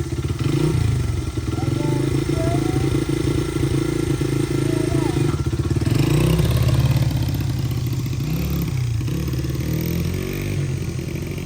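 A motorcycle idles and then pulls away in first gear with a little throttle, a steady mid-pitched engine drone close by, while people talk over it.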